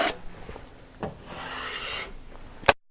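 A drywall knife scrapes excess joint compound off a wall in a few short, close rasping strokes, ending in a sharp clack as the blade lifts; no speech.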